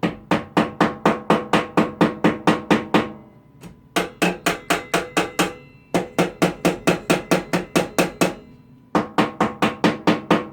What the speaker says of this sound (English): And gently tap around, and we'll check all my wires.